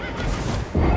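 A horse in the Elden Ring video game gives a loud, close whinny, a short burst of neighing with a heavier thud near the end, with no voices.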